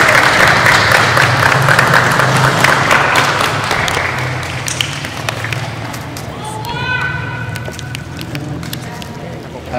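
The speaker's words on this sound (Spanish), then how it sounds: "todos nosotros damos un aplauso a este nuevo cristiano." Congregation applauds during a baptism ceremony, a dense, steady wash of clapping over a busy room with children's voices and murmuring, fading toward the end as a few voices rise.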